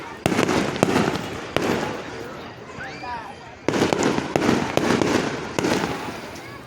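Fireworks boom and crackle in repeated loud bursts at a Marion, Indiana Fourth of July-style show, heard close with a brief lull midway, while people talk nearby.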